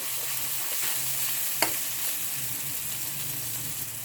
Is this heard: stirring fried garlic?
yes